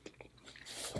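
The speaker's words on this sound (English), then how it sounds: "I'm eating chewing too fast." Close, quiet chewing of a seafood boil with king crab and lobster in buttery sauce, with a few soft wet bites and squishes.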